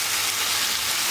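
Thin chicken döner slices frying in a hot pan, a steady close crackling sizzle that fills the whole moment with no voices.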